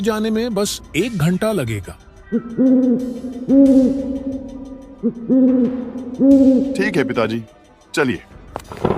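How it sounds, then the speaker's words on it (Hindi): An owl hoots repeatedly at night along a forest path near a rural train station, its steady tonal calls coming in several sustained bursts while people talk over them. "कभी कभी दूर से उल्लू की आवाज आती"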